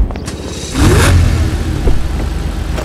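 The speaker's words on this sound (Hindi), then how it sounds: "ये मक्लारन लेकर चलते हैं, काफ़ी तगड़ी गाड़ी है" A McLaren sports car in GTA V revs up from a low idle into a loud, rising engine roar that holds steady, close and unaccompanied by talk.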